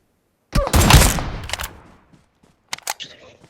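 Gunfire in PUBG Mobile: a loud, close burst of rapid automatic shots rings out, then after a short gap a few quicker, sharper shots crack in succession.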